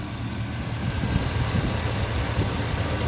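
A Chevrolet pickup truck engine idles in an old shop, a steady low rumble with even vibration, close and continuous with no talking.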